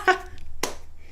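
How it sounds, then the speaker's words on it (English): A few sharp hand claps, three quick separate smacks spaced about half a second apart, close and crisp with a brief voiced sound at the start. "You get a hand clap on that one."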